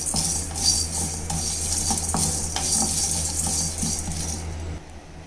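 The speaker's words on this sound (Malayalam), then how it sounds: "രണ്ടും കൂടെ ഒന്നിച്ചിളക്കി റോസ്റ്റ് ചെയ്യാം." Chana dal and toor dal dry-roast in a pan while being stirred, giving a continuous gritty rattle and scraping with soft ticks of the spoon and a low hum beneath.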